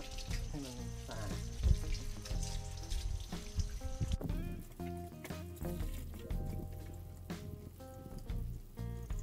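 Steady running tap water splashing and trickling as mulberry leaves are rinsed beneath it, continuous and close.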